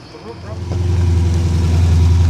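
A low, steady engine idle from an old Holden Commodore VL rumbles throughout, with a deep throaty burble that swells slightly louder after the first moment, close and continuous.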